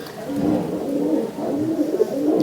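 Soft, throaty pigeon cooing rolls on steadily and close by, a low burbling murmur with no pauses and no talking.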